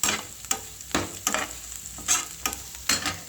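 Sliced onions with green chilli and curry leaves frying in a pan for potato chips, a steady close sizzle broken by repeated bursts of stirring and scraping, no voices.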